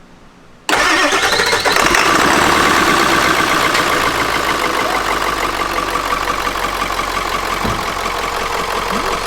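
A 7.3 diesel engine in a Ford E350 4x4 van fires up on the first try after a brief crank, then settles into a loud, steady, clattery idle that runs on without pause.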